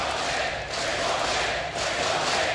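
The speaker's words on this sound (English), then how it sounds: "you've literally got the entire crowd shouting your name" A stadium crowd chants a player's name in a loud, continuous roar, swelling in waves with brief dips, heard from within the stands.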